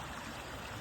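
An eroding creek cutting into a bank, a steady, fairly faint wash of flowing water over a short stretch, with no voices.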